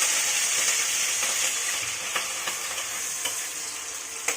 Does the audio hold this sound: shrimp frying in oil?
yes